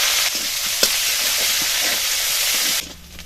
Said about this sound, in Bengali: মাছ ভাজা তেলের মধ্যেই দিয়ে দেবো গোটা জিরে, আর দিয়ে দেবো পেঁয়াজ কুচি